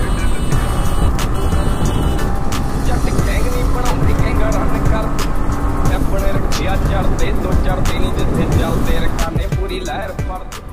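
A Yamaha MT 15 motorcycle accelerating along a road, its engine droning loud and close throughout with steady rumble and wind noise, sharp ticks and clicks scattered over it.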